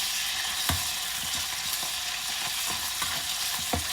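Wontons fry in a pan with a loud, steady sizzle close by, broken by scattered crackles and pops of spattering oil.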